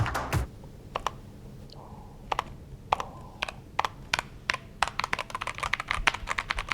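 Crisp, closely miked clicks from the keys of a matte black Aftershock PC keyboard, first a few separate taps and then a quickening run of sharp keystrokes over a faint hum, with no talking.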